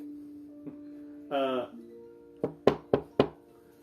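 Four knocks rap on a wall, the first softer and the last three sharp and evenly spaced, close by, after a short voiced sound and over a steady low hum.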